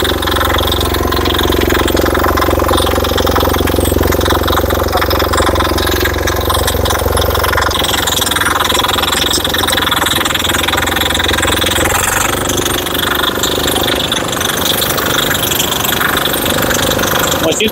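A back rotary power weeder runs continuously, its engine giving a loud, close, rattling roar that stays steady throughout, with a faint voice barely heard under it.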